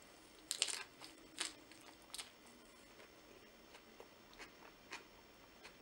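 Crunchy Vietnamese rolls are bitten and chewed up close, giving a handful of crisp crackling crunches spread irregularly over a quiet background with no talking.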